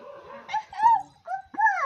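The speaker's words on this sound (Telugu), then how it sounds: "కుక్క" A dog in a village setting gives a few short, high whimpering yips in quick bursts, fairly close and clear, with no other sounds around it.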